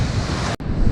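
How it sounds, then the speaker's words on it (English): Big surf breaking close to a beach in Bali, a steady loud roar of crashing waves with strong wind buffeting the microphone, a brief dropout, then the wash continues. "The waves are big."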